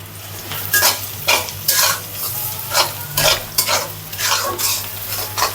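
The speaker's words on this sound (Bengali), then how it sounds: "পেঁয়াজটা ভাজা ভাজা হয়ে এসছে" Chopped onions frying in a pan for chicken and white pilau, sizzling steadily while a utensil scrapes and stirs in repeated bursts, close and fairly loud with a low hum underneath.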